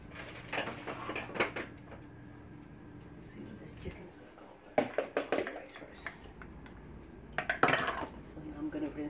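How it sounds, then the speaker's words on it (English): Rice is rinsed in an Instant Pot insert in a home kitchen, with scattered clinks of the pot, gritty swishes and splashy water bursts in irregular clusters, and quiet talk between them. "Rinse the rice."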